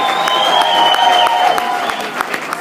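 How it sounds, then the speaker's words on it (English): Audience applause with some cheering fills the room in a steady wash of clapping, with a faint tonal sound and a few sharp claps standing out. "Give yourselves a big round of applause for finishing strong."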